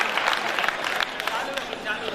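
Audience applause at a Hindi poetry recital of shringar ras verses by a poet, a steady dense patter of many hands clapping throughout, with a voice faintly under it.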